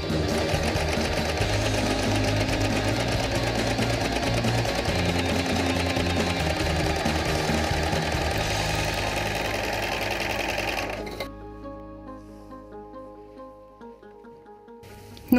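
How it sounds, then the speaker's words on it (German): An overlock serger runs a straight seam in a steady, loud mechanical whir that fills about eleven seconds, then cuts off into near silence. "Nähen Sie mit diesen Einstellungen eine gerade Naht."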